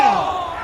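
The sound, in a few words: cricket crowd cheering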